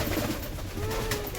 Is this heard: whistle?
no